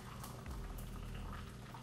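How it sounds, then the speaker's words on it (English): Water bubbles at a steady rolling boil in a pot while being heated for hummingbird food and iced tea, a dense continuous hiss and burble close by with no voices. "So here we're boiling some water to make our hummingbird food and to make our iced tea"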